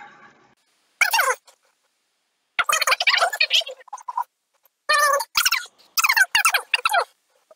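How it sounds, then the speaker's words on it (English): Duck from an N64 game quacking in several short, sharp bursts separated by silence, loud and close with no other sound around it. "Don't piss off a duck."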